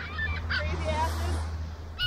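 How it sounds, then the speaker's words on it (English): Geese honk repeatedly at close range, a few loud calls over a steady low rumble of outdoor background noise. "Look at all these birds."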